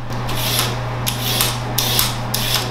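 Carrots are scraped with a vegetable peeler over napkin or parchment, making rhythmic, rasping strokes that repeat about every half second, close and fairly loud, with a low steady hum beneath and no voices.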